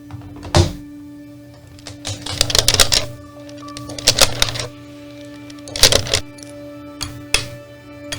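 Typewriter keys clatter in uneven bursts of rapid strikes with heavier thunks between, close and crisp over a steady low hum, no voices.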